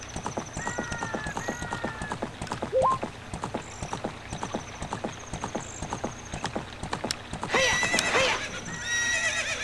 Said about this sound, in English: Fuck off, horse.